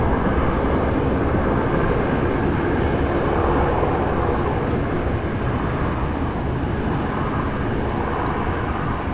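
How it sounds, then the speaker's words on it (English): A Rex Boeing 737-800 airliner departs Sydney International Airport bound for Brisbane, its jet engines giving a loud, continuous broadband roar that holds steady throughout. "That's Rex 7378 heading off to Brisbane"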